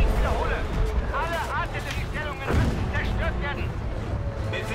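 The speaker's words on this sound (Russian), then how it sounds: "Артиллерия" Artillery booms and battlefield gunfire in Battlefield V, heavy rumbling blasts mixed with scattered shots and whistling, loud and continuous, with voices speaking over the fighting.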